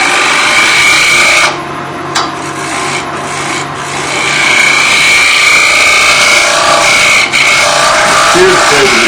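A turning tool shear scraping wood on a lathe to clean up torn grain from heavy curl, giving a loud, continuous rasping scrape over the spinning workpiece's hum, with brief pauses where the tool lifts.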